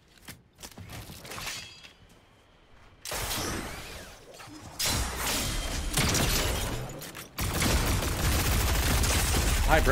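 Pulse rifle gunfire in the Fortnite video game erupts in loud, dense bursts of rapid shots, separated by short pauses and mixed with other game effects and impacts.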